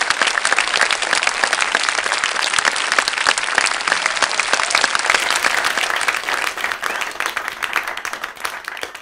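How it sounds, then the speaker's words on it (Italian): Sustained applause from a crowd gathered for the opening of a town fair in Emilia-Romagna, honouring municipal employees; dense, steady clapping fills the whole stretch at a fairly loud, even level, fading slightly toward the end. "Quindi un bel applauso ai nostri dipendenti comunali."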